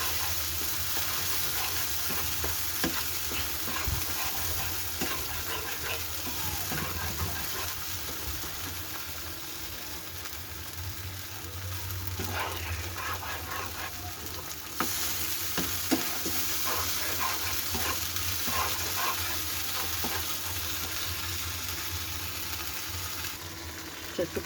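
A paste of chili, tomato and sour yogurt fries and hisses steadily in a pan while being stirred, with continuous close sizzling and occasional scraping clicks of the spoon.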